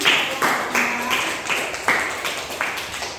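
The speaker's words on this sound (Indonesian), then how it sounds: "Ya, beri tepuk tangan." Audience clapping after a group presentation in a classroom. A handful of sharp, separate claps recur in an uneven rhythm with faint room noise between them.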